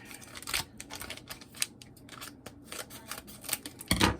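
Scissors snipping through packaging in a series of sharp, close crisp cuts, irregular in rhythm, with a louder rustle near the end.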